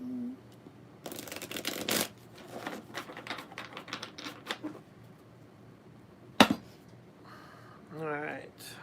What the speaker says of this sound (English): I'm going to shuffle these guys up good.